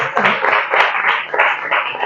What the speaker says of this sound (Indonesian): Beri tepuk tangan buat Kenza.